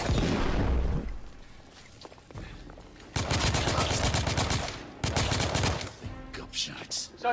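Gunfire in The Order 1886 video game, with dense bursts of rapid shots in several loud clusters separated by quieter gaps, mixed with game effects and ambient noise.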